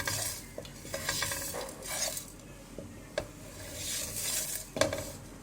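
Whole spices roasting in a pan over a low flame for chicken korma, with soft scraping and stirring against the metal, a gentle sizzle underneath and a few sharper clinks of a utensil.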